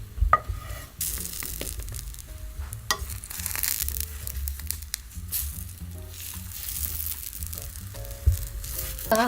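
Oil sizzles steadily in a hot pan over high heat while Korean vegetable pancakes fry, with occasional scraping and soft taps as pieces are turned over.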